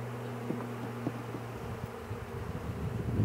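Honey bees fan inside a swarm box after being installed at home, making a soft, steady drone with a clear buzzing hum. The sound is faint and close, and small knocks and rustles come and go.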